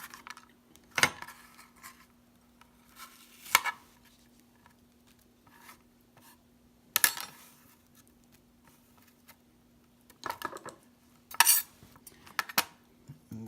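Seeds are scraped out of a halved bitter melon (ampalaya), heard as scattered sharp clicks and clinks of a utensil in quiet bursts with silence between them.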